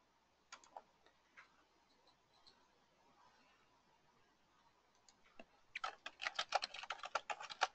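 Typing on a computer keyboard: a few scattered keystrokes at first, then a quick, dense burst of close clicking toward the end, with no talk.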